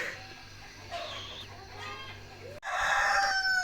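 Chickens cluck and squawk close by in a village yard, with a rooster crowing loudly near the end over a faint background hum.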